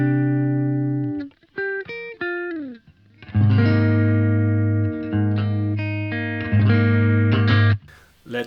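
Clean electric guitar through a Vox amp model playing sustained chords and short melodic notes, bright and undistorted, ringing out clearly on its own.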